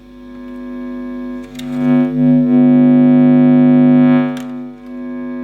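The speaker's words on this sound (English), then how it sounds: "So we what you're hearing is the wah sound" Guitar wah pedal with no instrument input, giving a droning, distorted hum that sweeps and swells in tone for a few seconds before settling back to a steady buzz.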